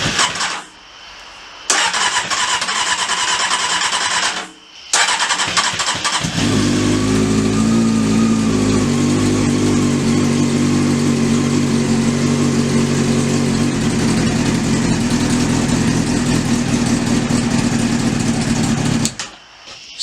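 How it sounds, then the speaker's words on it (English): A Honda CBR600 motorcycle with an aftermarket exhaust cranks briefly, stops, then fires up and settles into a loud, steady, throaty idle close by before cutting off. "So, the bike technically starts. It sounds incredible. That exhaust, I would really hope it sounds incredible."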